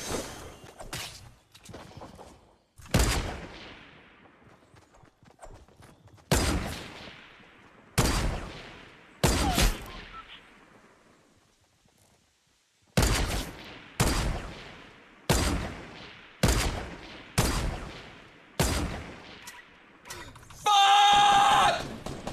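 Gunfire in the video game Fortnite, a string of sharp loud shots spaced irregularly, some in quick bursts, over a quiet background, ending in a brief electronic tone.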